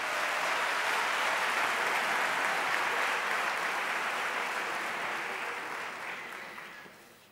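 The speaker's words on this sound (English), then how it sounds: "Let's welcome him with another round of applause." An audience at the annual Steve Biko lecture at the University of South Africa gives a round of applause welcoming the Vice Chancellor. The dense, even clapping fills the hall and gradually fades toward the end, with no talking.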